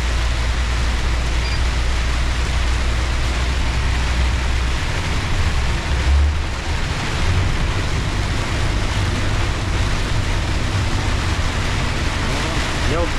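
Heavy rain roars steadily against a moving car, a dense wash of noise over a low road rumble, unbroken throughout.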